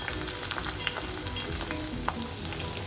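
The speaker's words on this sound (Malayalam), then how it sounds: "ഓരോന്നും വിട്ട് കിടക്കുന്ന രീതിയിൽ വേണം നമുക്കിത് ഫ്രൈ ചെയ്തെടുക്കാൻ." Beef pieces for a Kerala-style dry fry sizzle steadily in hot oil in a pan, a dense continuous crackle with occasional sharper pops, close and even.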